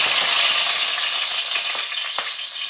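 Cumin seeds and green chillies sizzle in hot oil in a pan, a steady loud frying hiss with a few sharper crackles and pops throughout, no voices.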